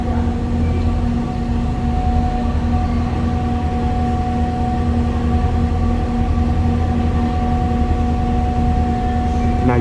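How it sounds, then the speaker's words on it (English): Two Bangkok Blue Line MRT trains cross a bridge together, a steady low rumble with sustained tonal hum running throughout, continuous and fairly loud over a constant wash of city noise. "There are actually two trains crossing."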